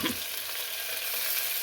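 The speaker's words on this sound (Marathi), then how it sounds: "आता पास्ता टाकू याच्यामध्ये." Pasta fries in a pan and is stirred, making a steady, close hiss of sizzling oil with faint scraping from stirring throughout.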